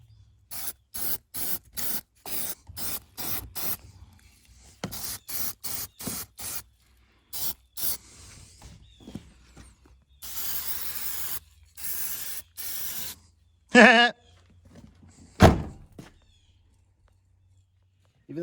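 An aerosol spray can hisses onto a Jeep door in rapid short bursts, then longer sprays and a few harsher hisses, close and loud, with someone talking between bursts.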